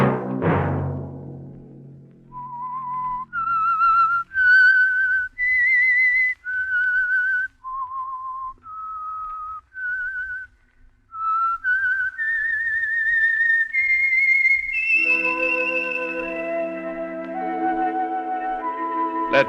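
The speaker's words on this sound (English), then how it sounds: "Let that whistle be your signal for the Signal Oil program, The Whistler" A lone whistler performs the eerie signature theme of The Whistler, a Signal Oil radio mystery program, as a slow melody of clear, sustained notes. Near the end an orchestral chord swells beneath the whistling.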